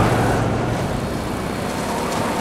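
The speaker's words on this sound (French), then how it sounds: "ça c'est du V8." A V8 engine car in Tales from the Borderlands drives with a loud, dense, steady roar and road rush that holds unbroken for a couple of seconds.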